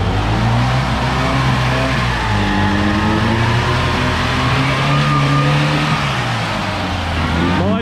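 A light UAZ off-road vehicle on solid axles accelerates hard on a run, its engine roaring loud and close with rising, shifting pitch throughout, a faint voice briefly underneath.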